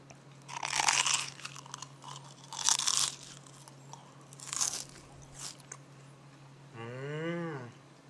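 A large, glass-like transparent potato chip, fried until puffed like chicharron, is bitten and crunched with three loud, crackly bursts close to the mic, followed by a short mid-pitched moaning sound.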